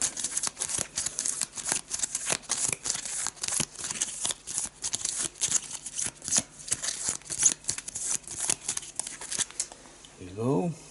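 Rapid bursts of papery riffling and flicking repeat in quick, uneven clusters, close by and fairly quiet, with a brief voice near the end.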